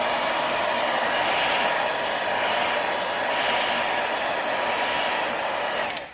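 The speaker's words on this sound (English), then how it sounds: "You're going to get your hair dryer and you're just going to let it dry." A hair dryer blows continuously at close range, a steady airy whoosh with a motor hum, clicking off at the very end.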